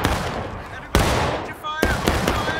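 Musket gunfire crackles in the American Civil War game War of Rights, a sharp report near the start and another near the end over a steady bed of distant battle noise, with voices faintly present.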